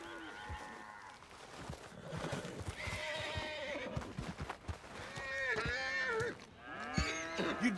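Horse whinnies and hoof clip-clops from Red Dead Redemption 2, a long neigh at the start and two more sharp whinnies near the end, over steady game ambience with some speech mixed in.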